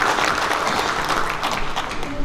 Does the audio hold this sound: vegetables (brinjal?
no